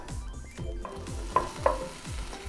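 Ground beef sizzles in a hot 12-inch deep cast iron skillet, a quiet steady fry with a few scraping stirs and two sharper clinks, no voices.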